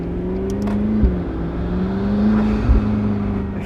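A McLaren 650S Spider's engine pulls steadily at low speed, a continuous mid-pitched drone with slight shifts in tone and two brief low thumps, heard alone and fairly close.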